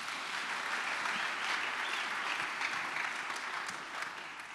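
A church congregation applauding, a dense, steady wash of many hands clapping that holds throughout at moderate distance and fades slightly at the end, with no voices rising above it.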